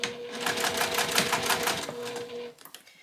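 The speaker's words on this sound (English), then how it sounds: "I'll start sewing by back stitching." Sewing machine back stitching a binding onto a train case bag: a fast, steady mechanical clatter of needle strokes for about two and a half seconds, then stopping with a few soft clicks.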